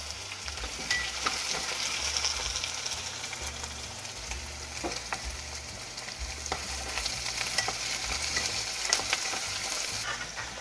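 Carrots go into a hot cooking pot and sizzle steadily, with scraping stirring sounds over a continuous frying hiss.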